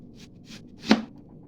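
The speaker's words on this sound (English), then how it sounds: "now I like to slice it just like this to keep it nice and round. But you can slice the onion any way you like" A knife slices through an onion in a kitchen, cutting it thinly: two soft strokes followed by one sharper, louder chop against the board, close and distinct with quiet gaps between.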